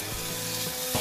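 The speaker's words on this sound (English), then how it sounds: "I'm gonna add in the beef slices in the middle" Beef slices hit a hot pan with a steady, close sizzle of frying, loud and unbroken for a moment with no voices.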